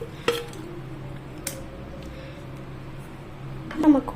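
Cut potatoes dropped into a pressure cooker, a few short metallic clanks and knocks spaced out over a soft room hum, with a louder clatter at the end, close and fairly quiet.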